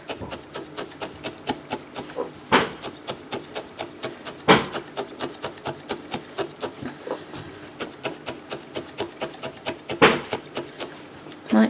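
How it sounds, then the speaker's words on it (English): Repeated banging from a neighbour's fence being replaced next door, sounding as sharp knocks near 2.5, 4.5 and 10 seconds over a steady scraping, rubbing background, moderately faint and heard from indoors. "So if you can hear the banging, next door neighbour's having her fence replaced."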